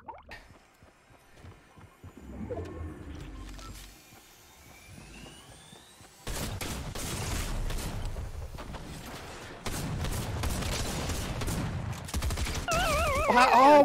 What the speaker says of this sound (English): why did I have to fire 6 shots to kill that guy?